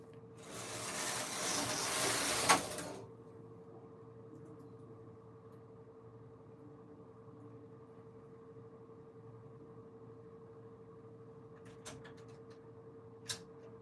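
A Silver Reed SK280 knitting machine knits fabric, its carriage making a loud, rasping mechanical sweep for about three seconds. A quiet steady hum follows, with a couple of faint clicks.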